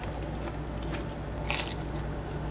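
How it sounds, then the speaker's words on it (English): A single crisp bite into a crunchy homemade bulgogi pizza slice with a Korean-Italian topping, close and fairly quiet, with a short crackling crunch over faint room noise. "Bite into one."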